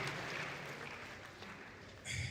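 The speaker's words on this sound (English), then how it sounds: "If you are not clapping for him to bring him to the welcome," An audience claps for a speaker at an official flag-off ceremony for a cancer patients' support fund, a steady, fairly faint wash of applause that swells slightly near the end.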